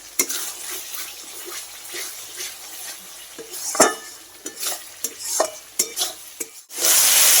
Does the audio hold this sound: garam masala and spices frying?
yes